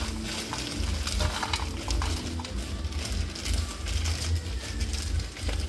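White onion added to a pot with frozen country vegetables sizzles and crackles steadily as it cooks, with a dense, continuous frying hiss and some stirring scrapes throughout.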